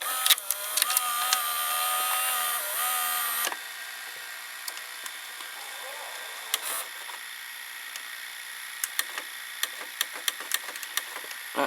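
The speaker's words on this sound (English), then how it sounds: "So when I press pause, it's brushing the capstan motor." Inside a JVC VCR, a mechanism part brushes the capstan motor on pause, giving a close, quiet motor whir with faint scraping that cuts out after a few seconds, followed by scattered light clicks and ticks.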